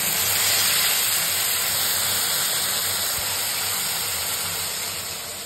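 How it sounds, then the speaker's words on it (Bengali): Green chilli, tomato and garlic paste hits hot oil with a loud, dense, continuous hiss that holds steady and then eases off slightly at the end. "কাঁচা লঙ্কা, টমেটো আর রসুনের পেস্টটা তেলের মধ্যে এবার আমি দিয়ে দিচ্ছি"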